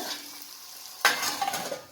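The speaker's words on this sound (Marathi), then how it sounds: "ह्याच्यात आता चवीनुसार मीठ घालायचं आणि ह्याला छान असं हलवून असं टमाटे मऊ होईपर्यंत" Tomatoes being stirred with salt in a frying pan, a quiet low sizzle followed by a sudden spoon scrape and a few soft stirring sounds, close and brief.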